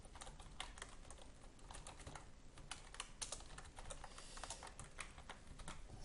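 Fingers typing a domain name on a computer keyboard, a rapid, faint stream of light key clicks at an uneven pace, close by over a soft background hiss, with no talking.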